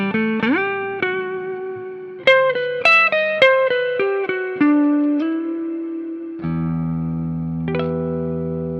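A 1980 Gibson Firebrand 335-S solid-body electric guitar played through an amplifier with effected tone: a series of sustained notes and chords with echoing decay, loud and close, no voices.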